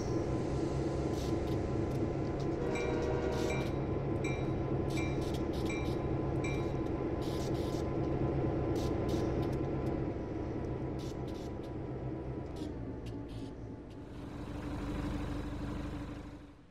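A simulated 1,600-ton train in Train Sim World 3 rolls along the main line, giving a steady, loud mechanical rumble with clicking track noise that eases slightly, then swells again near the end.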